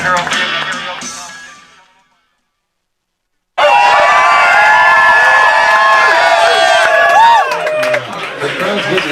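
A crowd cheering at a radio station event: a brief burst fades to silence, then loud screams, whoops and shouts erupt and hold steady, easing slightly near the end.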